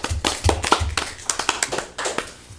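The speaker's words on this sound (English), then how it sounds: "let's give her a round of applause" A small group claps at a town board meeting, a sparse burst of individual hand claps close by that thins out and fades within a few seconds.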